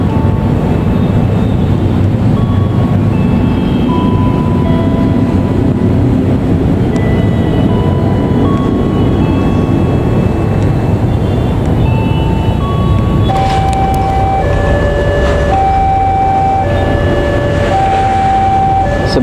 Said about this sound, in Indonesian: Kereta api Cikuray tiba di stasiun Cikampek.